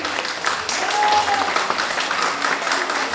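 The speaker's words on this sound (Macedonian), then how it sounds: "Аплауз на мојот другар Ваји" A crowd at a promotional event in Bitola applauds, many hands clapping in a dense, steady patter nearby, with a faint voice briefly audible underneath.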